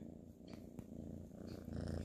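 An orange kitten purring up close, a soft, steady rumbling purr with rhythmic breathing cycles, quiet and continuous, heard alone indoors.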